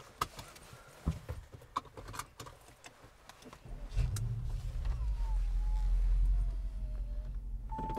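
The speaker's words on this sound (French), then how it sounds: "démarrage, l'échappement est assez discret" An Audi RS6 C7 with a 560 hp engine starts up after some light clicks and rustling, then settles into a steady low, fairly subdued idle from a quiet exhaust, heard close and continuous for the rest of the stretch.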